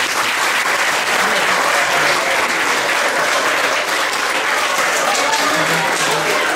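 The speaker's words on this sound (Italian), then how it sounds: "Un applauso a Giovanni." An audience at a dialect poetry event in Lagonegro breaks into sustained, dense applause, steady clapping filling the hall from start to finish.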